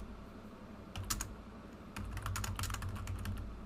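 Keys clatter on a computer keyboard as text is typed into a file in a Linux editor, quick bursts of soft clicks with a pause, then steadier typing over a low background hum.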